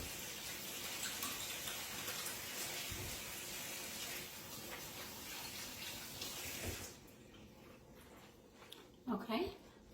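Hands are washed under a running kitchen sink tap while making peach cobbler with sticky biscuit dough, giving a steady, close rush of water for about seven seconds before it shuts off, followed by a few faint clatters.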